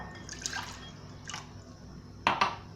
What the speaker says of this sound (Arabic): غنديروا دابا الماء